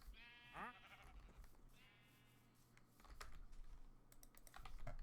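Sheep in Minecraft Java Edition bleating in short wavering calls, one early and another shortly after, faint under a background hum, followed by clicking keyboard typing.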